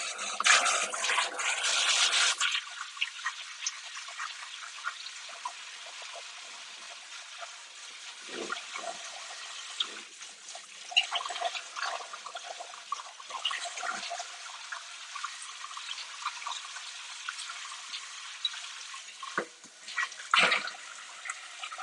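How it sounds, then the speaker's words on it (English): A tap gushes loudly for a couple of seconds in a home kitchen, then gives way to quieter trickling, dripping and clattering as something is rinsed and cleaned up. "I'm going to go rinse this off."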